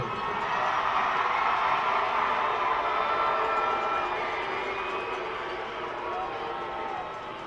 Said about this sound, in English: One more round of applause for the 2023 Class 5 champions from Cardinal Ritter High School